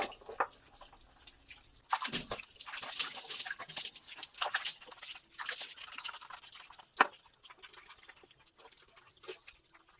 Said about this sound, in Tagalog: Maghihilamos ako.